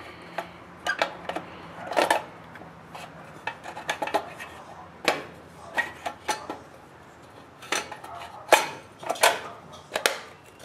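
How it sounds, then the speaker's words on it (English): Plastic case halves of an Xbox 360 console pressed back together, giving a series of sharp, close clicks and snaps scattered irregularly over a quiet background, several louder cracks standing out. "make sure you hear that snap"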